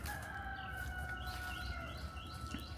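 A rooster crows faintly in the distance among clucking chickens, the long drawn call rising and falling over a low outdoor background.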